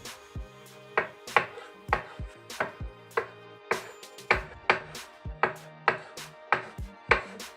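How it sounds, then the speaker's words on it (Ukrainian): Steady knife chopping of tofu on a cutting board, about two quick thuds per second, close and clear with no talking. "Також подрібнюємо тофу."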